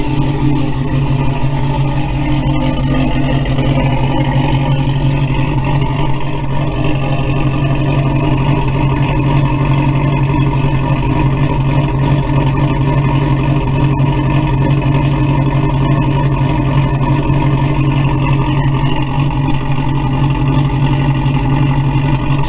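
Old truck engine idling after sitting about fifteen years, warming up on a cold day: a loud, steady rumbling idle with a slightly uneven chug that continues unbroken with no talk.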